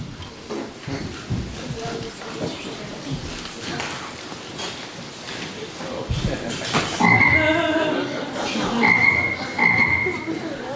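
Cartoon frog croaks from a fairy-tale animated film, a transformation effect where a princess turns into a frog; several throaty croaks rise over busy background music and effects, fairly loud and close.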